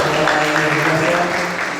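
A church congregation applauds its servers during a Sunday service, a short burst of steady clapping under a low hum and a faint voice, easing slightly toward the end.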